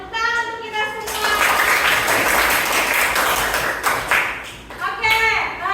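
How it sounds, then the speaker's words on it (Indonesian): A classroom group of students and teachers bursts into lively, dense applause for about four seconds, loud and close, with children's voices chattering before and after. "Ya, tepuk tangan untuk kita semua."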